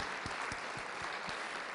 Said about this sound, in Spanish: Dele un aplauso con más gratitud